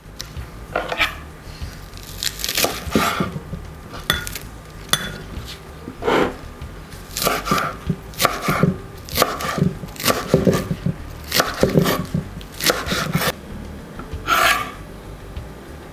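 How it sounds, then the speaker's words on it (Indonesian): A knife chops through washed lettuce on a cutting board, giving a steady run of crisp, crunchy cuts spaced about a second apart, close and clear with no voices. "Potong selada atau lettuce yang sudah dicuci bersih sebelumnya."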